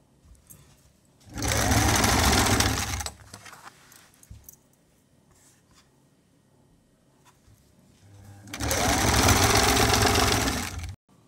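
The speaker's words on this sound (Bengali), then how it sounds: "কাপড়ের বাইটল আর ও পট্টির বাইটল রাখিয়া সেলাই দিব সারা গলা রাউন্ড হইয়া।" Sewing machine stitching around a long kameez neckline with fabric and binding strip, two loud close bursts of steady whirring separated by a long quiet stretch with faint handling sounds.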